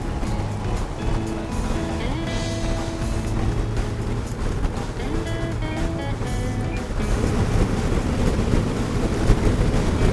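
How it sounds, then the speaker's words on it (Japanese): River water near a waterfall in a natural area by Ashiya's upscale Okamoto neighborhood rushes in a steady broadband wash, close and continuous, with occasional wind noise on the microphone. "川の音とかが心地いいです"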